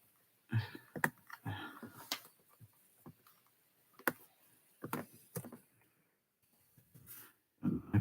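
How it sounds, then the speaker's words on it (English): Computer keyboard and mouse clicks come in short irregular bursts of quiet taps separated by near-silent pauses, close and fairly soft, with no talking. "Sorry if you can just hear me clicking."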